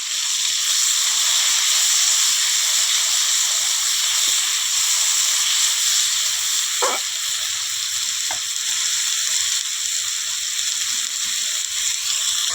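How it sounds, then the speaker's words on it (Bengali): Continuous bright sizzling of prawns frying in hot oil, steady and close, with a couple of faint clinks of a utensil. "বেশি ভাজবো না চিংড়ি মাছটা"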